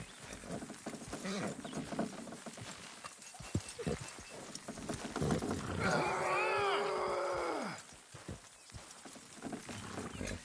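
Horse hooves clip-clop in a busy Red Dead Redemption 2 game scene, with a loud creaking, groaning structural sound swelling in the middle before fading.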